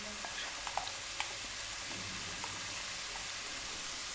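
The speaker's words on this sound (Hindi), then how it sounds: "अब इनको अच्छे तरीके से मिक्स कर लें।" Chinese rice with soy sauce being stirred in a pan, a continuous moderate frying hiss with faint scattered clicks of the utensil against the pan, no voices.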